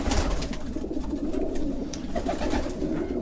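A racing pigeon coos softly at close range, a low throaty call repeated over a few seconds against faint background rustle.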